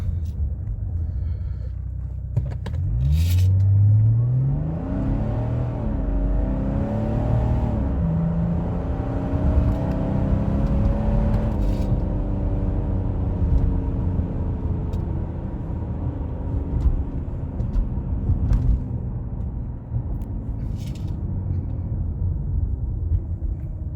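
A tuned Mercedes OM606 turbo diesel car with a 3-inch exhaust, rear muffler only and a K&N filter roars through a 0-100 km/h run, engine note rising through gear changes, loud and close with a steady rumble throughout.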